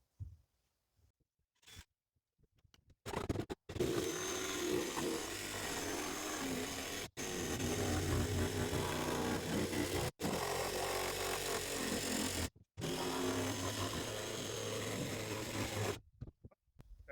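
A power tool cuts a hole in a plastic kayak hull for dry storage, rasping and grinding loudly in several bursts separated by sharp stops and short silences.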